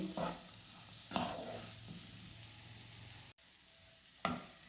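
Mango pickle with fennel is stirred in a pan, with faint sizzling and a few soft scraping strokes of a spoon against the metal, quiet and close.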